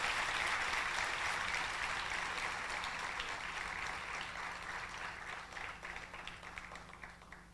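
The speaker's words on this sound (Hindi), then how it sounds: "ताली बजाओ भैया जोर से।" Applause from a seated audience at a spiritual gathering, loud at first and then gradually thinning into scattered claps as it fades over several seconds.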